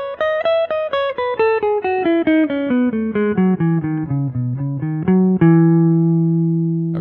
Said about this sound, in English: Here is a pick that I have not done any sanding to, and I'm going to play with the normal edge straight on a 90-degree angle.